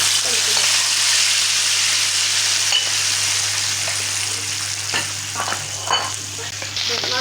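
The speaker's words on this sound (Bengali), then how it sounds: "তেলটা গরম হয়েছে ভর্তাটা দিয়ে দিলাম" Tomato mash hits hot oil in a wok and fries with a loud, continuous sizzle, crackles and small stirring clicks rising over the steady hiss.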